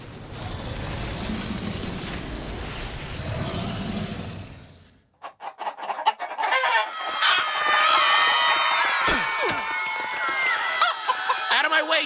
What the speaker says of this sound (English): Out of my way, chickens!